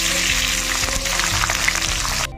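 Onion dropped into hot mustard oil with whole garam masala, giving a steady, close, dense sizzle that runs throughout before cutting off abruptly at the end.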